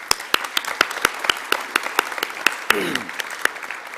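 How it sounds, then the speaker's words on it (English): Sparse clapping from a small audience at a Year 12 graduation ceremony, individual claps distinct and fairly close, with a brief murmur of voices partway through. "how about another round of applause for Ashley?"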